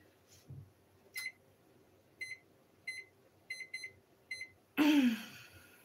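A kitchen timer beeps while potatoes boil on the stove: a series of short, sharp electronic beeps in small clusters, fairly clear against a quiet room, ending with a louder clatter.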